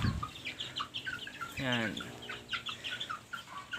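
Backyard chickens raised alongside goats cluck and squawk in repeated short bursts close by, with one longer drawn-out call in the middle; a voice briefly speaks.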